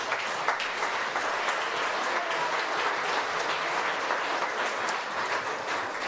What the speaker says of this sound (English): Please give all of the sponsors a round of applause.